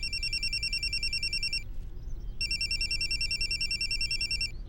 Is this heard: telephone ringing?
yes